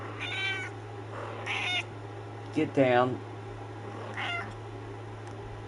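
A pet cat meows indoors, four distinct calls spread over several seconds with one longer, wavering chirpy meow in the middle, close to the microphone over a steady electrical hum, with a brief spoken command between calls.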